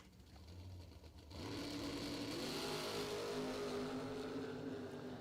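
Dragster engine at a bracket drag race fires up after a brief quiet moment, settling into a loud, steady, sustained roar that holds through to the end.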